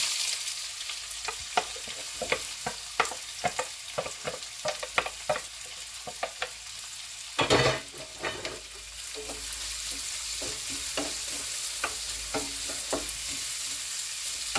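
Onions sautéing in a pan for a Nendra banana chaat, a steady sizzle broken by frequent stirring clicks and scrapes, with a louder burst of stirring midway; close and continuous with no talking.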